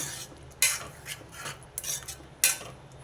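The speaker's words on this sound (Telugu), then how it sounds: "ఇప్పుడు కొంచెం కరివేపాకు వేద్దాం వేసి ఒకసారి తిప్పేసి" Capsicum masala curry with curry leaves stirred in a pan, a few sharp metallic spoon scrapes and clinks against the pot over a faint low simmer, no voices.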